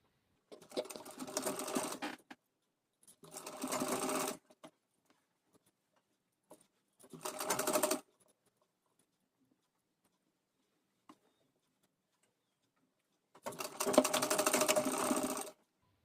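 A sewing machine stitches a blouse lining in four separate bursts of rapid, whirring needle action, each lasting one to two seconds, with quiet pauses between.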